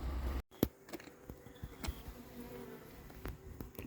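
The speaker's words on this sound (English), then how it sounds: "The bees are back in town." Bees buzz faintly outdoors, drifting near and away, with a few sharp clicks and knocks in the quiet background.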